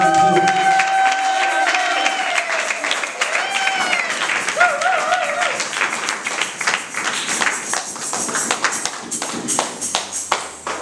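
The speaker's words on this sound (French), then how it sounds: "acclamons encore pour la gloire de Dieu" A church congregation claps and cheers with scattered whoops, a sustained wave of applause that thins into rapid uneven clapping, and a voice calls over it at the start.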